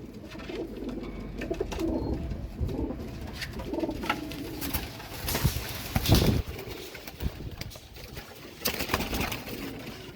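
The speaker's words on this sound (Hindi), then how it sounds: "ये चीची करते बच्चे हैं दोस्तों छोटे।" Pigeon chicks make soft chirping calls in a loft keeping ring-eyed Kamangar and Dub pigeons, with adult cooing and steady bird chatter throughout, several louder bursts standing out near the middle.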